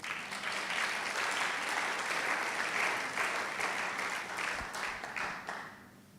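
A church congregation applauds steadily and loudly for several seconds. The sustained crowd clapping slowly fades toward the end.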